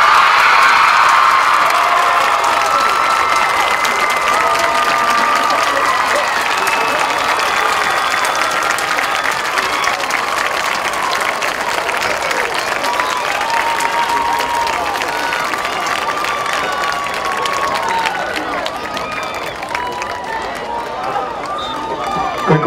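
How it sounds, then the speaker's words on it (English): Crowd at a Hahnville High School football game applauds the 2014 homecoming queen, a loud, dense, sustained roar of clapping mixed with cheers, whoops and children shouting, holding steady for over twenty seconds before thinning slightly. "Let's give her a round of applause."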